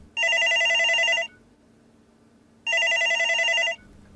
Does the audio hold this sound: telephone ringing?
yes